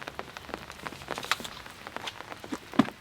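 Light rain falling at a dark campsite, with soft, steady pattering and scattered drops striking a surface close by, faint and continuous throughout.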